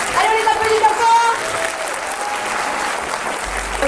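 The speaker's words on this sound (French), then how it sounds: "Allez, on les applaudit encore." A cinema audience applauds a film team at a French preview screening, steady full clapping throughout with some cheering voices mixed in at first.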